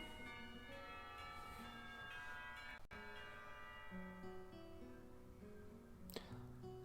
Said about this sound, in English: The lunch bell rings, signaling a return downstairs.